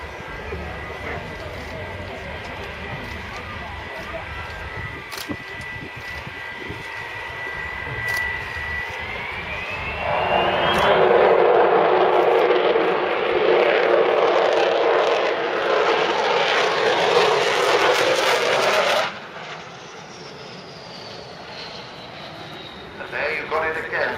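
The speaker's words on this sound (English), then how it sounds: "Here she is, from our right, Avro Vulcan XH558." An Avro Vulcan XH558 jet bomber passes at an air show with a loud, broad roar from its Olympus engines that swells, holds steadily for several seconds and then cuts away, while an announcer speaks over it.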